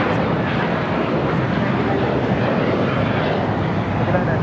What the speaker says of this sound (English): This is American Airlines 990 taking off to Atlanta on an A321.